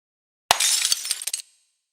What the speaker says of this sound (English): what sounded like glass breaking, followed shortly after by another